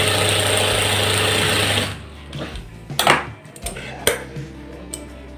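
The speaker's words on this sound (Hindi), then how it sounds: "हम दोनों कफ को इस तरीके से सिलाई लगाएंगे।" A sewing machine stitches the cuffs of a shirt. It runs steadily and loud for about two seconds, then stops, and scattered handling clicks and fabric thumps follow.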